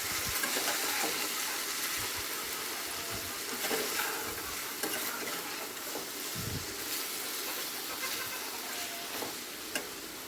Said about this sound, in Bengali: এবার মশলার সঙ্গে আমি চিকেনটা ভালো করে কষিয়ে নেবো।